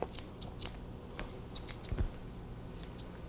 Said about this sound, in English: I'm holding my scissors very stable with 4 fingers, and the thumb is doing the moving.